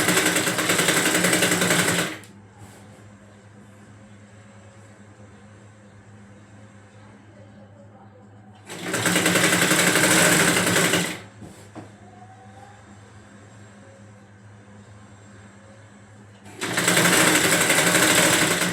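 A Jack sewing machine stitching a saree petticoat, running in three loud, fast, steady bursts of rapid mechanical whirring, each a few seconds long, separated by long quiet pauses with faint low hum.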